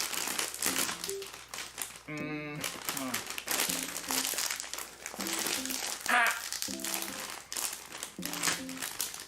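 A crinkly plastic Japanese snack packet rustles and crackles in bursts as it is handled and tugged open, with a person talking over it.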